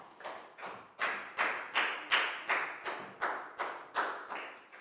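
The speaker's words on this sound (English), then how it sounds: "a big round of applause for Pat" A Year 4 classroom claps for a student in steady unison, about a dozen evenly spaced claps ringing out at a moderate level, with no talking.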